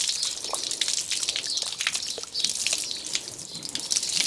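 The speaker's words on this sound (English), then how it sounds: "Now I'm just going to rinse off this side again. I haven't got the hose pipe turned up full." A hose pipe running below full pressure rinses water over a horse's coat outdoors in the sun, giving a continuous close splashing patter with uneven spurts and drips.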